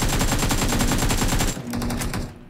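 AKM rifle in BGMI firing a sustained full-auto burst, loud and close with rapid evenly spaced cracks, then a short second burst that cuts off.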